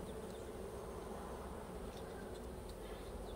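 VHS honey bees buzz over a brood frame from a nuc during a hive inspection, a steady, soft, droning hum that holds evenly throughout with no voices.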